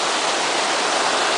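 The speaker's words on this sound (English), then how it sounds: "Right here, the water's running over, it's running higher than that." Creek water rushes over a small dam as a loud, steady, close hiss of flowing water, unbroken and with no voices.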